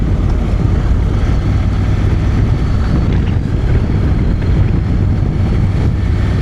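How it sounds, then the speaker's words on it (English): Strong wind roars and buffets the microphone during a Honda NC750X motorcycle ride, a loud, continuous rushing blast that covers the whole stretch with no talking. "See the bushes blowing about in this wind."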